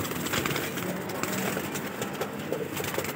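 Pigeons in an aviary flutter their wings and coo, a busy close-up mix of flapping and soft low calls over a constant rustle, with no talking.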